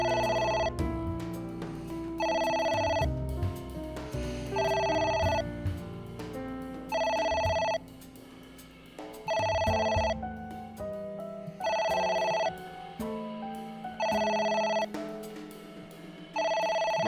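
A phone rings again and again in AI: The Somnium Files, a video game. Bright electronic trills sound in regular bursts with short gaps between them, loud and clear over quiet background music, for the whole stretch.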